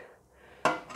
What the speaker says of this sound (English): I'm going to pop the lid back on for a little bit